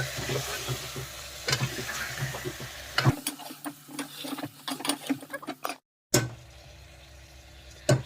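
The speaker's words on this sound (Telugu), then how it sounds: "ఇప్పుడు వచ్చేసి మటన్ ముక్కలు అయితే వేసుకుందాం మంచిగా కలుపుకుందాం" Mutton pieces fry in hot oil, with a soft sizzle under irregular scraping and clinking as they are stirred in the pan. The sound briefly cuts out near the end, then resumes.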